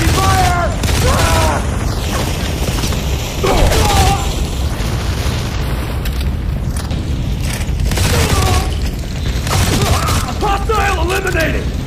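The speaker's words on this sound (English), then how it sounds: "We're taking heavy fire!" Heavy gunfire and booming explosions in the Modern Combat 4: Zero Hour mission Threatcon Delta, played on Android, roll on loud and nonstop while shouted voices cut in over the battle.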